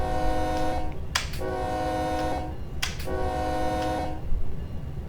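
Locomotive horn in the Run 8 train simulator game, two long chord blasts separated by short gaps, loud and close over a low engine rumble.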